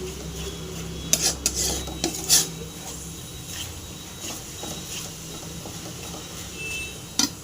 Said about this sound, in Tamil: நல்லா கலந்துங்க நல்லா ஃப்ரை ஆகட்டும்